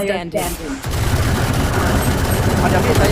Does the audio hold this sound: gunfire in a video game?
yes